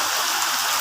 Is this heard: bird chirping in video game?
no